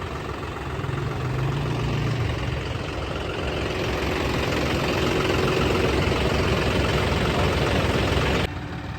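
A John Deere tractor engine idles with a steady, loud mechanical drone and low rumble, unbroken throughout and close by, ending with a slight drop in level.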